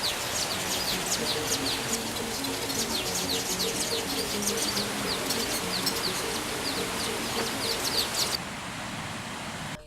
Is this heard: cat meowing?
no